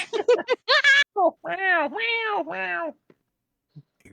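Cats meow as a sound effect during a tabletop role-playing session, with several loud, drawn-out meows following quick bursts of chatter, then fading to near silence.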